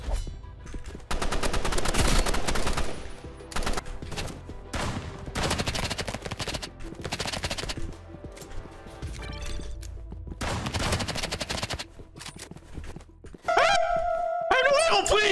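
Roblox Rivals gunfire comes in loud rapid bursts and sustained automatic volleys, near and punchy, broken by short lulls, with chatter from players in between.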